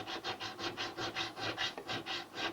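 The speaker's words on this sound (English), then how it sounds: "Wow, it's cutting that fast. These are diamond grit files, but man, never had them to cut that quick before." A diamond grit file rasps back and forth in a steady rhythm, crowning the frets of a 60-year-old Kay K300 Montclair guitar, with about a dozen even strokes close up and no talk.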